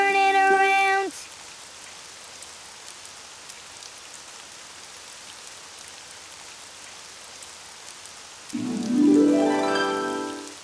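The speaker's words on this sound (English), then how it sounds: "Oh, it's raining outside." Rain falling outside, a soft steady hiss of drops between stretches of synthesized musical tones at the start and end.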